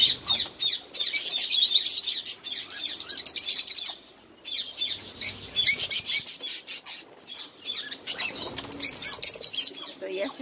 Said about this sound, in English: Oh, these birds. Different birds.